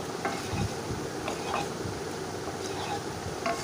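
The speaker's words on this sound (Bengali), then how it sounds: "সয়াবিনগুলো একটু নাড়াচাড়া করে আমি এখন ভেজে নিচ্ছি" Soybeans sizzle steadily in a pan while a utensil scrapes and stirs them in irregular strokes, with a faint hiss throughout.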